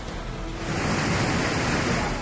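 Surging flood river in Pithoragarh, Uttarakhand, during heavy monsoon rain: a loud, continuous rushing roar of churning water, close and unbroken.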